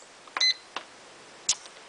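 A pressure cooker's start button gives a short electronic beep close by among a few soft clicks of button presses, followed by another brief chirp.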